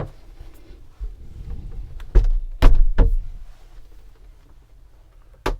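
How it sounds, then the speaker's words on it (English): A shower door in a 20-foot Wingamm Oasi 610 small RV is handled, giving a few sharp close knocks and latch clicks with soft rustling between, ending in another quick clack. "Now this has a shower door."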